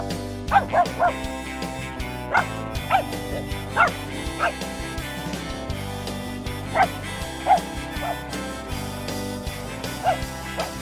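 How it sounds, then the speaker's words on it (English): A Jack Russell Terrier on a mountain hunt in Africa gives repeated sharp, high yips and barks in irregular bursts, fairly close, over a steady low background hum. "Tenacious little dogs."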